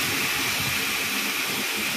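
Chicken pieces coated in onion, turmeric and a little tomato sauce hit about a teaspoon of hot oil, giving a steady, even sizzle and hiss that runs unbroken and fairly loud throughout.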